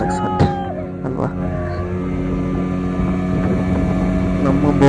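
A motorboat runs across the water with a steady droning engine hum and wind buffeting the microphone, while people talk over it.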